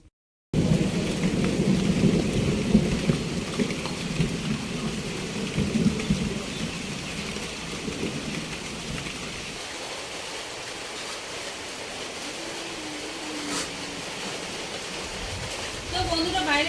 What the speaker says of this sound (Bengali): বাইরে প্রচুর পরিমাণে বৃষ্টি পড়ছে